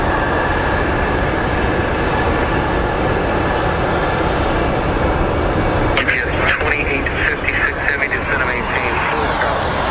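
A jet airplane rumbles loudly at Sky Harbor airport in Phoenix, a steady broad roar that holds throughout, with clattering, rattling noise and a shift in texture joining over the last few seconds.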